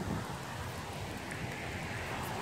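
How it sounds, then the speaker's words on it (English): Rain beginning to fall outdoors on a bad-weather day, a soft continuous hiss of drops with a steady, even texture and nobody speaking. "it's really bad out. I think it's starting to rain."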